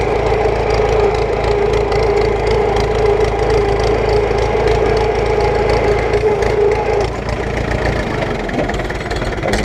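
Loud whine and rumble from a vehicle's transmission while in second gear, a steady mechanical drone close by that shifts slightly near the end, with faint talk underneath.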